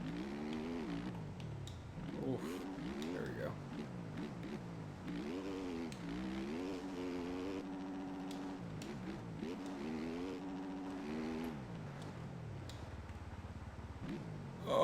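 A 2024 Yamaha YZ450F motocross bike in MX Bikes, its engine revving up and down in repeated rising and falling whines as it races around a track, fairly quiet and steady throughout.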